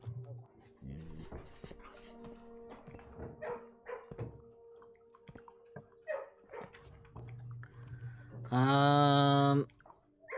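A dog barks in a kennel in the video game Blue Prince, with scattered barks and dripping, watery sounds through the first part and one long, loud tonal bark or howl near the end.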